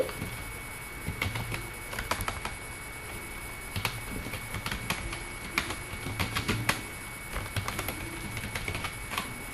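Fingers tap keys on a computer keyboard while entering text in MS Word, giving quiet, irregular clicks in short bursts over a faint background hiss, with no voices.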